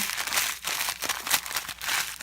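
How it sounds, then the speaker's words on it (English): Crackers being crushed by hand inside their plastic package give close, irregular crinkling and crunching bursts at a modest level. "I leave them in the package, and then I just start crushing."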